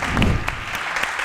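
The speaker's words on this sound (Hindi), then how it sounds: "बहुत सारी तालियां होनी चाहिए।" Studio audience on a game show clapping, a dense burst of applause that rises near the start and then thins, fairly loud and close, with a few brief higher sounds in the mix.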